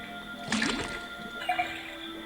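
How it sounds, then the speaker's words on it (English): Tapping a faucet in the video game Detective Grimoire, two brief watery drip-and-trickle sounds about a second apart, faint over a steady background hum. "First thing we do is to tap the faucet"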